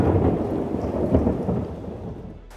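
Loud thunder rumbles over heavy rain pouring down outside a house with a pool, a steady downpour with a deep roll that fades slightly toward the end.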